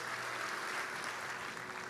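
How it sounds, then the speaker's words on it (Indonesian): A crowd applauds in a dense, steady patter of clapping, moderately distant, with no pauses. "Kasih tepuk tangan dulu buat Tuhan, come on."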